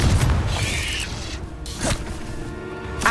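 A Confringo explosion spell in Hogwarts Legacy gives a heavy boom with a whooshing, mechanical tail, then a couple of sharper later impacts, moderately loud with no talk.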